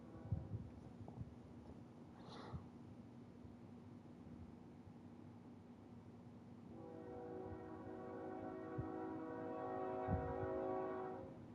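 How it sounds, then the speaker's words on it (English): A train rolls past with a long horn blast rising toward the end, rumbling steadily in the distance with a brief higher whistle-like tone early on; no one speaks. "Don't mind the train."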